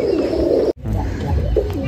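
Gola Madrasi (magnet Madrasi) pigeons cooing close by in low, steady, overlapping coos, with a brief gap just before the midpoint and no talk.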